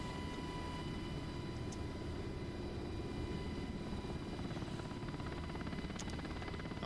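A UH-60L Black Hawk in the DCS flight simulator runs with a steady, dense rotor and turbine drone, holding at an even level throughout with no voices.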